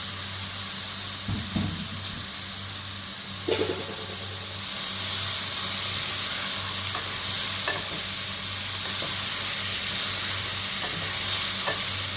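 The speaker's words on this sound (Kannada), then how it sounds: "ಒಂದು 2 ನಿಮಿಷ ಈ ಥರ ಹುರ್ಕೊಳ್ಳಿ." Sprouted chickpeas roast in a pan with potatoes and turmeric. A continuous close sizzle is broken by occasional scraping stirs and clatters, with no speech.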